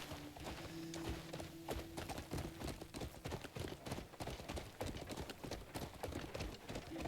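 Horse hooves clip-clopping at a steady, brisk gait while riding in Crimson Desert, close and continuous, with a faint tonal hum beneath.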